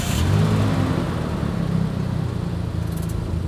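A car pulls away with a mid-pitched engine revving up, then settling into a steady whir as it drives off, fairly close and loud.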